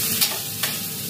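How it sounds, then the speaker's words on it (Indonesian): Red chili sautéing in oil for a spicy catfish turmeric soup makes a close, steady sizzle, with two quick stirring scrapes over the hiss. "tumis dia sehingga dia naik bau dahulu"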